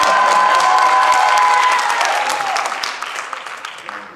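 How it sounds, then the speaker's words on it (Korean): Church congregation applauding with some cheering, loud sustained clapping that gradually fades out over several seconds, with voices in the crowd. "박수 한번 하십시다"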